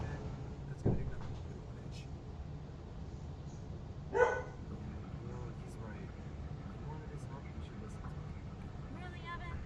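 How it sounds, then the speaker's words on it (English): Puppies yelp and bark in a few short, sharp outbursts against a steady background hum, with people talking over them. "The puppies are yelling."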